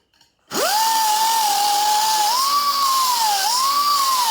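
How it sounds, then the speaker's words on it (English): A power grinder spins up abruptly and whines steadily at close range while grinding down weld bumps on a car exhaust downpipe, its pitch dipping briefly twice under load; no talking. "these weld humpy dumpies are too big, so I'm gonna have to grind them down"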